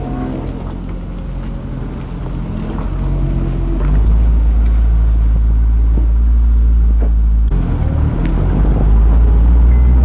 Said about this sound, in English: You hear the tyre rubbing the arch.